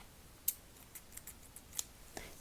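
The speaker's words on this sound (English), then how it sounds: "Scissors." Scissors snip in a series of crisp, quiet clicks spaced irregularly, with a louder snip near the start and another near the end, alone against a faint hiss.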